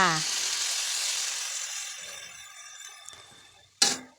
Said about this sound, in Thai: เราก็ผัดหมูกับพริกแกงของเราไปก่อนนะคะ ผัดให้หอมเลยค่ะ